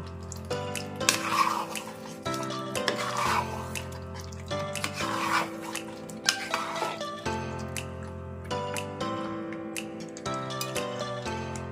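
A spoon scrapes and knocks repeatedly against a pan while matar malai paneer is stirred, with irregular clinks and soft squelches, close and fairly quiet.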